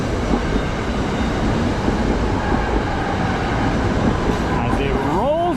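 A train rumbles steadily past Shawmont station along the Schuylkill River, Pennsylvania, at close range, wheels clattering on the rails, with a rising metallic squeal near the end.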